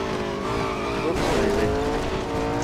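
A race car in Real Racing 3 brakes hard into a corner, its tires squealing in a rising, wavering screech over a loud continuous engine roar, heard alone.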